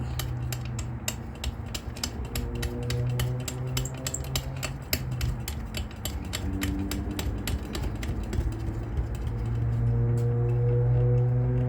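Metal caps being screwed by hand onto the long silver screws of a Globe Electric Charlie light fixture, giving a steady run of close, fast ratcheting clicks and scraping threads with a low hum underneath.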